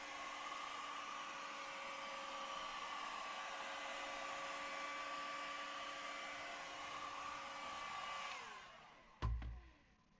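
A heat gun blows steadily for about eight seconds while heating a rim sticker ring, a continuous whirring hiss that winds down and stops, followed by a sharp knock.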